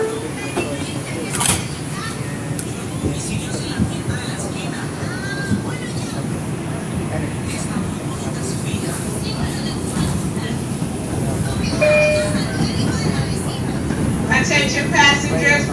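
An R142 subway train on the 4 express line, Manhattan-bound in the Bronx, rumbles steadily from onboard with constant low wheel and motor noise, a few squeals and clicks over the track, and occasional faint voices in the car.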